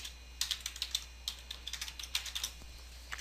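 Keys tapped on a computer keyboard while a remote desktop connection is set up, in quick irregular bursts of light clicks, close and clear, with no talking.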